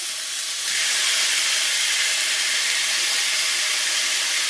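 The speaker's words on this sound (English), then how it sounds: "And now we're going to cook the flank steak that I cut up earlier." Flank steak sizzles in a hot skillet as a loud, steady hiss that swells after the first moment and holds evenly, with no speech.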